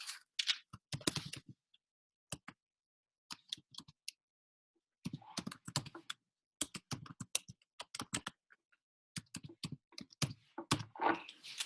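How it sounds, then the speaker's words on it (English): Close, fairly quiet typing on a computer keyboard, bursts of rapid key clicks separated by short pauses, with no other sound in between. "let me just type it out"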